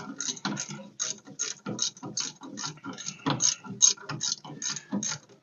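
Hand ratchet tightening the upper shock bolt on a 1966 Dodge Charger, rapid clicking in quick bursts with brief pauses, close and fairly loud, no talking.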